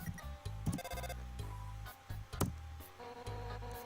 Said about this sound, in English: Alright, here's the phone call.